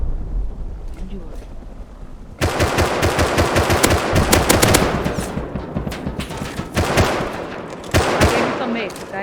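Gunfire in the video game Rust: rapid automatic bursts, loud and close, rattling continuously over several seconds with a brief break before a final burst, with some talk mixed in.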